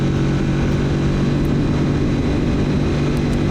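A 2024 Kawasaki Z650RS motorcycle accelerating up a long on-ramp, its steady engine drone mixed with loud wind rush, constant and close throughout.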